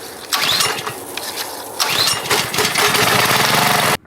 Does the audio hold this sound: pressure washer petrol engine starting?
yes